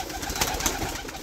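Pigeons coo softly in a short, low, murmuring burst, close by and with no talking.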